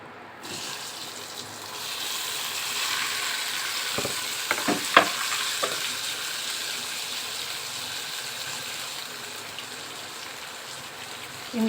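Potato pieces frying in oil in a pan just emptied of eggs, a continuous bright sizzle with a few quick clacks of stirring partway through.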